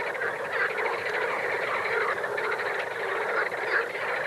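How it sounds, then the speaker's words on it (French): Frogs in the Danube Delta give mating calls: a dense, continuous chorus of many croaking voices blending into a loud, pulsing wall of sound with no talking. "Et là, vous entendez les grenouilles."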